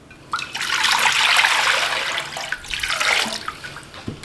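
Water pours and splashes steadily while beeswax is rinsed and filtered, a close, continuous trickling wash that swells and fades over a few seconds with no talking.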